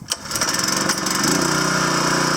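A small gasoline engine on lawn-care equipment, with carburetor trouble, catches and runs: a brief pull or cough, then a steady, loud buzzing idle close by, with no talk.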